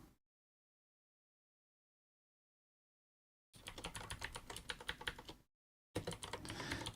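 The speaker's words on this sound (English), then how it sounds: "Typing too fast, Sonny, my bad." Quick, busy clatter of keys on a computer keyboard comes in two bursts split by a short gap, following a long stretch of silence, close and clear with nobody talking.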